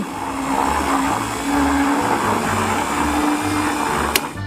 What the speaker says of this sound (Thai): ตอนนี้เหลือแค่ต้องปั่นให้เข้ากัน